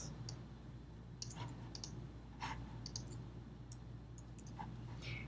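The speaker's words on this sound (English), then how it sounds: "Command C on your keyboard, Command V will do the job." Computer keyboard keys pressed in a few sparse, light clicks and short typing taps, Command shortcuts for copy and paste, heard close but faint over a quiet steady background hum.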